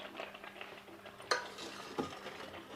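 A spoon stirs a bubbling milk cake mixture in a pan, soft scraping and gentle bubbling with a couple of clearer clinks against the pan, fairly quiet and close.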